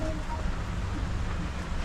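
Rain falling at Isla Jardin del Mar in Gumasa, Glan, Sarangani, a steady broadband hiss with faint low rumble, continuous and moderately close, with no voices.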